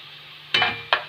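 Two short sizzling bursts as food is stirred into hot oil in a pan for an okra casserole, each a loud crackling hiss over a quiet background with faint hum.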